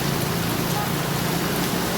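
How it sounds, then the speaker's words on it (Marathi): Heavy rain falling in Palghar, a dense steady hiss of downpour with no breaks, moderately loud and close, filling the whole stretch alone. "बघू शकतो आपण जोरदार पाऊस सकाळपासून कोसळतो आहे"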